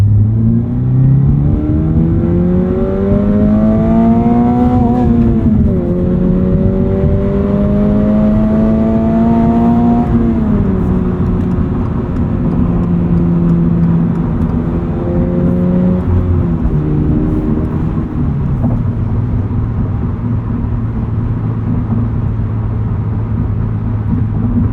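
A 2025 Toyota GR86 Hakone Edition drives with synthetic engine sound piped into the cabin, a loud steady drone that climbs in pitch through several gear pulls and drops at each shift, heard from inside the car with no talk.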